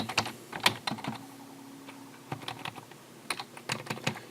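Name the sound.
typing a code comment on a computer keyboard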